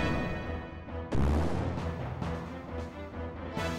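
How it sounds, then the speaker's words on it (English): A Sword Knight enemy firing on the player in Xenogears: a sharp booming shot lands after a quiet lead-in, followed by several fainter repeated impacts and a final blast, moderately loud with a musical bed underneath. "Why does Sword Knight shoot me?"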